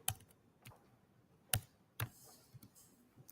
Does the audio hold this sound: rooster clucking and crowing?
no